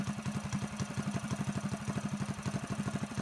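A Predator 224 small engine fitted with a VM22 Mikuni clone carburetor idles steadily, its low, even chugging pulses repeating rapidly and evenly at close range, with no voices.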